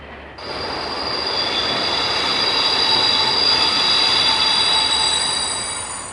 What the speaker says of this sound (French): Le 4704 va s'engager dans le grand tunnel sous la colline de Loyasse